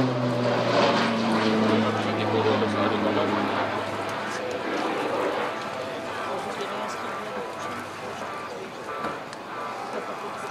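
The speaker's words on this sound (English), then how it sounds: "the pilot banks the aircraft with 90 degrees towards us to continue level in front of us" A T-6A Texan II propeller trainer banks past at high speed during an air show display, its engine drone loud and broad at first, then easing slightly as it continues level, with no talk over it.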